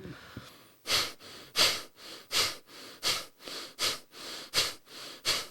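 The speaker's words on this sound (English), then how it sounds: "Both those techniques are nasal breathing." Forceful nasal breathing exercise with sharp exhales: about a dozen strong puffs of breath pushed out through the nose in a steady rhythm, close and loud with no speech.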